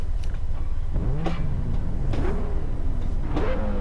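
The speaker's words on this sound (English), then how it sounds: "the engine sound isn't terrible" Lamborghini Veneno engine in the racing game Test Drive Unlimited 2, a steady droning tone with a few rising rev sweeps, fairly loud and alone without talk.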